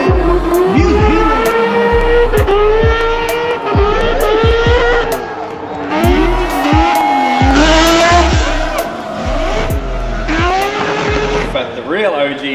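A 350-horsepower drift car engine roars and repeatedly revs up and down while tires squeal and skid, loud and continuous, with crowd noise in the background.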